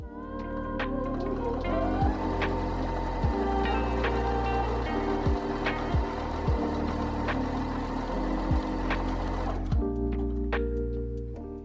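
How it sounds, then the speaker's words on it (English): A sewing machine stitches the shoulder seams of a dress made from a sheet, using straight and zigzag stitches. Its motor hums steadily and rises and falls in pitch, with light rhythmic ticking and a few sharp clicks. It stops abruptly near the end. "So then I'm just sewing the shoulders together, so the front piece to the back piece, with a straight stitch and then a zigzag stitch"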